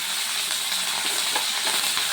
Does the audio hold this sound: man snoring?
no